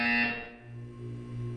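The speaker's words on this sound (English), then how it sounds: "When you hear the buzzer, look up at the ceiling" A buzzer in the video game Portal 2, a bright, harsh electronic tone that sounds once loudly and then decays into a lower lingering hum, alone with no talk.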